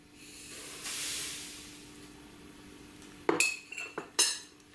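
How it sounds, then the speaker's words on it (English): A whisk beats meringue in a bowl, giving a soft swishing hiss followed by several sharp metallic clinks against the bowl's side, close and fairly quiet, with no talking. "And whisk again."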